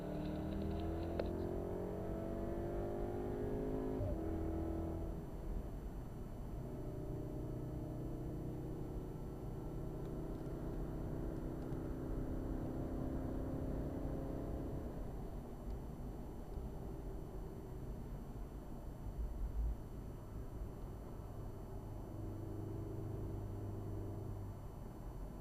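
A Volkswagen Golf R engine on a track: a rising harmonic engine note climbs under acceleration, then drops to a lower steady drone through a tight corner before pulling again, with continuous road and tyre rumble and no talk.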